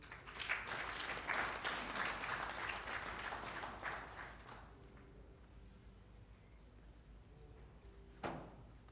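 Round of applause at an evening political forum event in a hall, a few seconds of moderate clapping that fades out midway, leaving quiet room tone and a single later knock.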